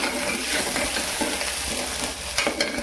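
Chopped onion fries in a hot pan for misal pav, giving a loud, steady sizzle with scraping stirs throughout and a few sharper crackles near the end.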